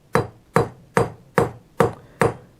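Forging blows from a hammer driving straight down onto hot metal on an anvil, seven crisp metallic strikes in a steady rhythm about half a second apart, up close and alone.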